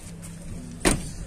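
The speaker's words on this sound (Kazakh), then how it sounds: "Эки алдыңкы стеклоподъемник деген жакшы." Electric power window motor of a Toyota Tico car, one brief whir up close against a low idle-like hum inside the cabin.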